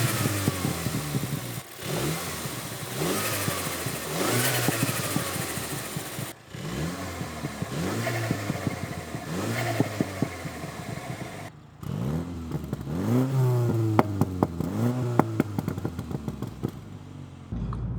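A Mini Cooper S, miked in the engine bay and at the exhaust, revs through repeated accelerations and gear changes, the engine note rising and dropping in sweeps with brief breaks between pulls, loud and close.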